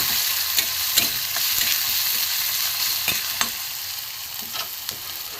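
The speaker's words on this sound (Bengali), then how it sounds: "দিয়ে আমি নাড়বো একটু ভেজে নেবো মশলাটা" Ground cumin, coriander, chili powder and chaat masala fry in a pan with a constant close sizzle, punctuated by sharp taps and scrapes of a spoon stirring at irregular intervals.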